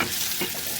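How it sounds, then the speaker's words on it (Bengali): Onions frying in oil in a pan next to beef cooking with potatoes, a steady crackling sizzle with faint stirring scrapes, close and alone. "এখন ওইখানে পেঁয়াজগুলো ভেজে নেব।"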